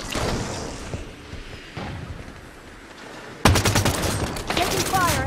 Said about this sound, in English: Taking fire. Enemy near the lights.